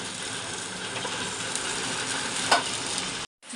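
Fish frying in a pan, a dense continuous sizzle that holds steady close up with one brief crackle near the end before cutting out abruptly, no voices.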